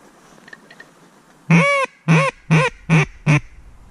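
Ducks and geese call close by over shallow water during a hunt, with five loud, evenly spaced honks following faint quacks in the background.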